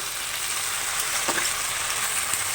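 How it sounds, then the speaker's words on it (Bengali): Flat beans and tomatoes fry in a pan, giving a loud, continuous hiss and crackle with a brief spatter partway through and no voices. "এটা একটু ভেজে নেব পাঁচ মিনিটের মতন"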